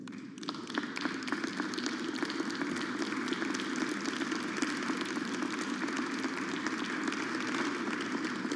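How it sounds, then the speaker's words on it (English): Applause in a legislative chamber: a dense, even spatter of many hands clapping from a large crowd, sustained steadily at moderate distance with no pause throughout. "they deserve all of our applause today"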